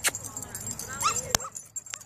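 A puppy whimpers and gives a few short, high yips, faint and brief, with some quiet background noise.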